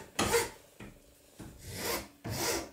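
Wood filed by hand with a rasp, four separate rough scraping strokes with short pauses between, close and fairly quiet with no talk.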